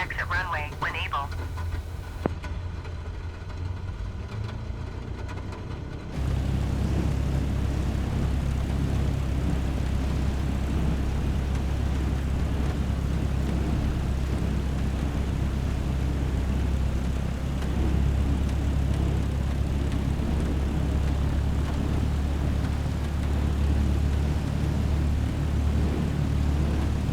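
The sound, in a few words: light aircraft taxiing to parking after landing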